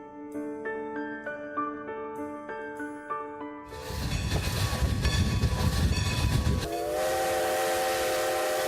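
A Strasburg Railroad train is heard: a bell-like tone rings first, then a loud rumbling rush of the train passes, and a sustained whistle blows at the end.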